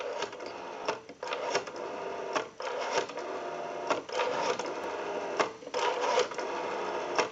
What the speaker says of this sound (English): We have a nice smooth return on our rotary now.